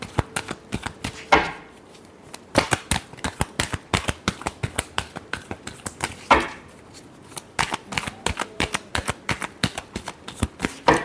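A deck of tarot cards is shuffled by hand in a rapid series of crisp riffles and taps, with a few louder swishes mixed in, close and dry, with no talking.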